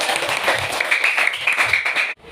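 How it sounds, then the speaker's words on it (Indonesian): Children in a classroom clap together in a steady, dense burst of applause that holds for about two seconds, loud and close, then stops abruptly. "Kita beri tepuk tangan sekali lagi untuk kita."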